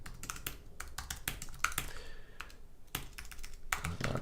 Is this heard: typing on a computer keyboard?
yes